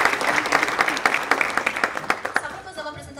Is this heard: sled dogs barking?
no